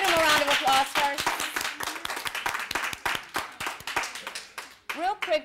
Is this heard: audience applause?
yes